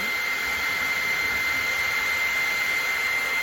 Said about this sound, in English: You can move your hair dryer to change the direction of where the wax melts and drips.